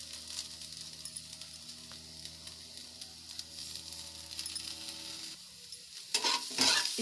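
Potato and pointed gourd fry sizzling quietly in a pan as it is stirred together after coriander is added, a faint steady hiss with light scraping that gets louder and clatters near the end, no talk.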